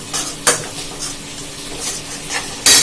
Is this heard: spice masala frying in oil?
yes